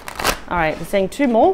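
Tarot cards are shuffled briefly with a quick papery flutter near the start, then a person talks over and past it.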